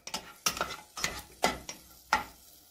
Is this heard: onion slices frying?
yes